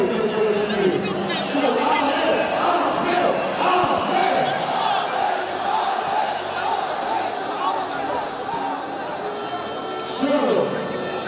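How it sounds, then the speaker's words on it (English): At a boxing event after Amir Khan's fight with Bill Dib, a large arena crowd keeps up a dense, continuous roar of cheering, with scattered shouts poking through the steady wash. "Crowd cheering and satisfied, very satisfied with the performance by Amir Khan"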